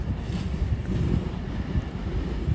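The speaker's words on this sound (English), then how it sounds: "Incoming now will be the 1323. Advantage West Coast service from Glasgow Central to London Euston" An Avanti West Coast train from Glasgow Central to London Euston arrives at Crewe on the West Coast Main Line, a steady low rumble of wheels mixed with wind buffeting on the microphone, no talking.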